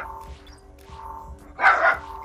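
Lola the dog barking in the Saints Row 4 video game, a few soft yips at first, then a louder burst of barks near the end, with no talk over it.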